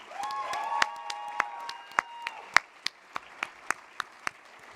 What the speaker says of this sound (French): j'aimerais ça qu'on donne une bonne main d'applaudissement aux députés qui nous ont encouragés